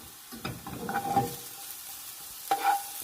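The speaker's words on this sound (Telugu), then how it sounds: "ఇప్పుడు టమాటా ముక్కలను వేయించుకున్నాము" Tomato pieces fry in oil for tomato pickle, with a soft sizzle and two short bursts of stirring clatter separated by a quiet pause.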